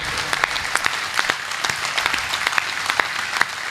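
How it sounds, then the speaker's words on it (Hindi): Audience applause at a Hindi poetry recital, a dense, steady wash of clapping from a large crowd with sharper individual claps standing out throughout. "तालियां उठाओ तो ऐसी उठाओ कि आपका जोश मुझ तक पहुंचे"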